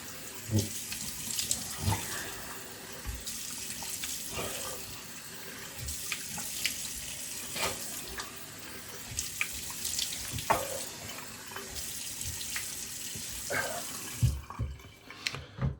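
Tap water runs steadily into a sink for about fifteen seconds while a razor is rinsed during a traditional wet shave with a Merkur Progress razor, with occasional clinks and splashes and a brief pause near the end.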